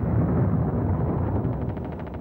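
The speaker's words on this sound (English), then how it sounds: "These, of course, were peaceful explosions." A nuclear bomb test explosion rolls out as a deep, heavy rumbling roar that gradually fades and flutters, loud but muffled, in an old 1970s documentary recording.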